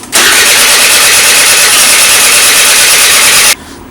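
A Honda ZX 50cc scooter engine, freshly repaired after a cracked cylinder and crankshaft, catches and runs with a loud, steady high buzz for about three and a half seconds, then cuts to a faint idle.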